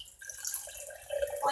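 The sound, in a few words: water being poured into turkey chili with salsa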